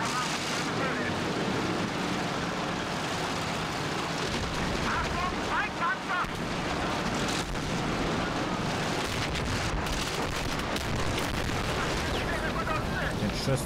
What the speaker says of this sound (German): Oh, schon wieder so ein Haubitzen-Ding.